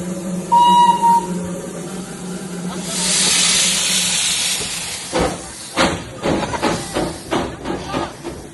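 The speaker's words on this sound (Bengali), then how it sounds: "চলে যাচ্ছে টয় ট্রেন, ঐতিহাসিক টয় ট্রেন।" A Darjeeling toy train heritage steam engine lets out a long, loud hiss, followed by heavy rhythmic chuffs; a brief whistle-like tone sounds early on.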